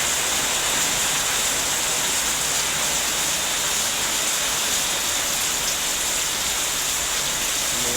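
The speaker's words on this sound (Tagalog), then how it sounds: "Ulan, lakas ng ulan." Heavy rain pours steadily on a rainy early morning among mango and other fruit trees, a dense, loud, unbroken wash of drumming drops with no voices.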